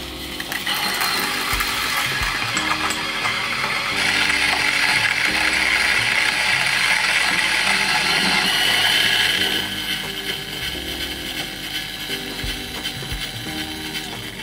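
A home electric coffee mill grinds about 18.5 g of beans very fine for espresso, giving a steady, loud whirring and rattling grind that holds for about ten seconds before easing slightly as the beans run out.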